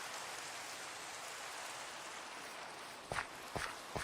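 Steady rainfall in Minecraft, a continuous broadband hiss of rain on surfaces, with three short louder patter bursts near the end suggesting footsteps or heavier drops; no talking.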